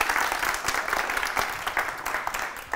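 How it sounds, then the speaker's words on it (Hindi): A school event audience gives steady applause, with many hands clapping in a dense, continuous patter at moderate loudness and a faint voice mixed in. "बहुत सारी तालियां।"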